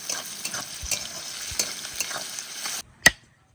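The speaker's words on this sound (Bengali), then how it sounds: "পেঁয়াজ ভালো করে ভেজে নেব।" Chopped onions with salt frying in a pan of tempered spices for a village-style chicken and potato curry, a steady close sizzle with stirring scrapes that cuts off near the end before one sharp clank.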